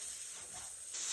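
A Hello Fresh pork dish simmers in a pan on lowered heat, giving off a soft, steady hiss for a brief moment with no one speaking.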